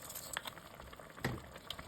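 Chicken adobo with liver in apple cider vinegar, bay leaf and peppercorns, simmering in a pot after hot water is added: soft bubbling and light popping with a few sharper plops, close and fairly quiet.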